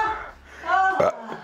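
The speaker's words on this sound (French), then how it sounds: "je viens de roter, ça remonte dans le nez" Short throaty burp from a person eating odd foods, one voiced belch rising in pitch, close and loud, followed by a brief vocal sound.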